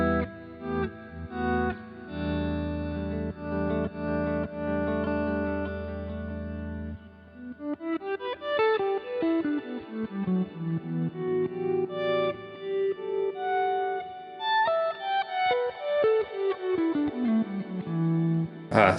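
Electric guitar played through a Boss GX100 multi-effects unit with Reverb Plus, sustained chords fading in as volume swells with shimmering reverb tails, then a run of rising and falling swelled notes, loud and alone without talk.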